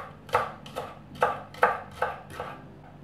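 Six crisp knife strikes cut spring onions on a board for a fresh salad, each a sharp chop with short gaps in a loose, steady rhythm, close and alone.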